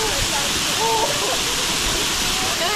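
A waterfall roars as a constant, dense rush of falling water heard close up, with faint voices barely showing through the spray.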